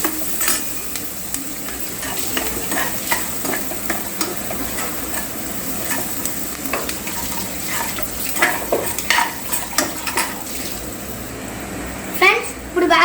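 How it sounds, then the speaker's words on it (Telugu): Chopped onions with a pinch of salt and turmeric fry in a pan for natukodi pulusu, a steady close sizzle punctuated by scraping stirs and light utensil clinks. "ఆనియన్స్ మనకి బాగా వేగాలంటే చిటికెడు ఉప్పు వేసుకుంటే బాగా మనకి వేగుతాయి అన్నమాట తొందరగా"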